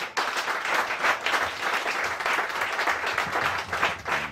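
A church congregation applauds and cheers continuously as new members come forward at a French-language worship service, with a dense, loud wash of clapping throughout.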